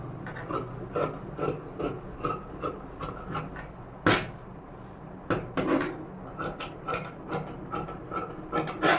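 Scissors cut fabric to shape in a series of close, crisp snips and rasping slides, repeated in an irregular rhythm against a quiet background.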